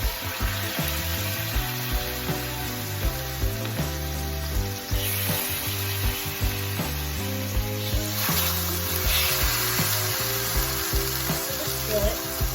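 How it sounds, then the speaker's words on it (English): A ribeye steak sears in a hot skillet, giving a steady loud sizzle and crackle throughout, with a few faint bumps and shifts of the pan, and no talking. "we're gonna go on now and add our ribeye"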